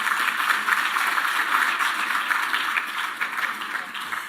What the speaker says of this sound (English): Clap her, you're supposed to clap her.